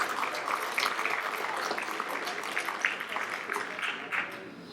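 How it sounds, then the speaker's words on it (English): Banquet crowd at a hall of fame dinner breaks into applause, a soft, somewhat distant spread of clapping with scattered louder claps and faint chatter underneath. "if we can give a round of applause and say,"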